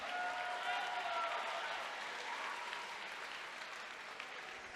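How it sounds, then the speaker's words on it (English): Crowd applause with some cheering after an amateur fight at a combat sports championship, a continuous wash of clapping that fades slightly over a few seconds. "Give these two young warriors a round of applause right now."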